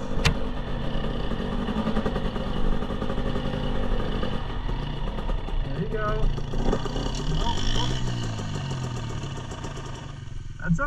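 A Yamaha TTR50E kids' dirt bike runs along a trail, its small engine droning steadily throughout with slight pitch rises, while an adult talks over it at times.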